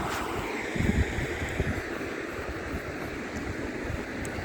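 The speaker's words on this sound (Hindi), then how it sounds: "यहाँ से नदी खूब अच्छी आ रही है" A river in the Pauri Garhwal hills near Dunk Village rushes steadily, a broad continuous roar of water heard close by, with wind buffeting the microphone.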